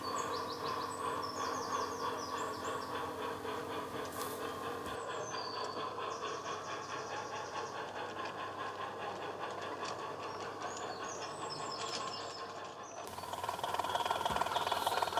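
A small model train on a light railway layout rumbles and clatters along steadily at close range on its approach to a station, with a faint chirping in the background and a louder surge near the end.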